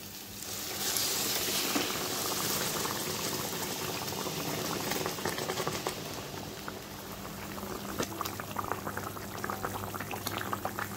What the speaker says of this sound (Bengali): এই যে ঝোলটা ভালোভাবে ফুটে উঠছে